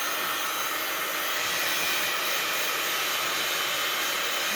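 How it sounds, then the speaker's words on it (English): A dryer blows a steady, loud, broadband rushing hiss close by while drying glue on a fabric journal page, constant throughout with no talk. "I'm going to give this just a little shot of drying"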